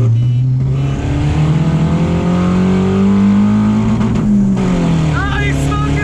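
Quad-turbo car accelerating hard in a drag race against a Supra, a loud steady engine drone rising in pitch through the run, with a voice talking over it.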